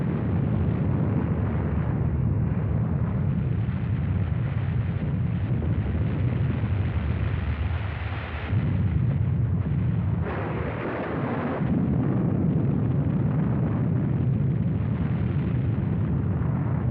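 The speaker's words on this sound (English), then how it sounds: "the bomb detonated within 1 mile of 2 huge" Atomic bomb detonation over Nagasaki, a sustained deep rumbling roar lasting many seconds, loud and continuous with slight surges, no voices.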